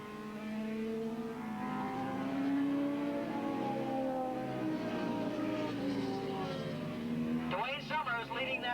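Racing motorcycles, including a Ducati, heading into turn two at Willow Springs International Raceway during a 1987 AFM Grand Prix, their engines droning steadily with shifting pitch under continuous commentary, with a rougher rasp building near the end.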